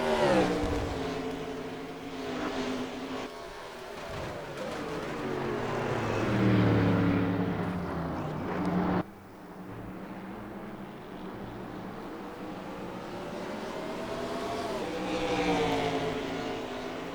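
Race cars in the ISCR sim racing series at CTMP roar past with engines revving up and down, one loud pass cutting off abruptly midway, then continuing.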